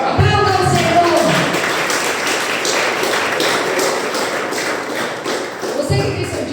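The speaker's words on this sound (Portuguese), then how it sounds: "Aplauda o Senhor." A church congregation at a praise and worship service claps loudly together, a dense burst of applause with thumps and taps, rising at the start and swelling again near the end.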